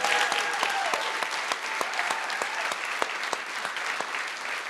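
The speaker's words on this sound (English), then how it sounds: "a round of applause for Chrissy Sadowski" Audience at a city's State of the City address applauds the mayor's wife, a dense, even clapping from a sizable crowd close by, sustained for several seconds and tapering slightly at the end.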